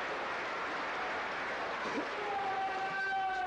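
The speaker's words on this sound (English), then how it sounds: "this huge York Hall crowd cheering with delight." A large boxing crowd at York Hall cheers and applauds in a steady roar, with a commentator talking over the noise.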